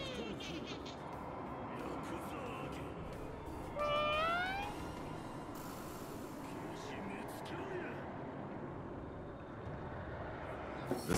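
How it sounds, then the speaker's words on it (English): A cat yokai in the video game Ghostwire Tokyo gives a single rising meow over a low ambient game hum, with faint other sounds around it. "Is that a cat? Technically, it's a yokai."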